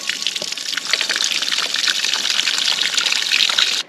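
Water gushes steadily into a dug hole in the ground in Portugal while a Starlink pole is being set up, a loud, close, continuous pour that stops abruptly at the end, with no talk.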